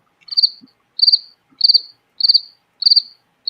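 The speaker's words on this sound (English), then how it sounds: "Crickets." Crickets chirping in steady, evenly spaced bursts, about five trilled pulses over a few seconds, clear and fairly close with no talk over them.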